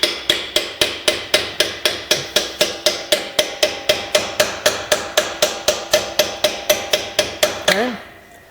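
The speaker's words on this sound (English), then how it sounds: "I'll just take a punch in my regular hammer." A regular hammer drives a punch around an engine part during final assembly, about two dozen sharp metallic blows in a steady, even rhythm, loud and close, stopping abruptly near the end.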